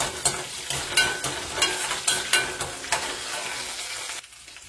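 Garlic frying in oil for a Jaffna-style squid curry, a bright close sizzle with regular scraping stirs about every half second, dropping away abruptly near the end.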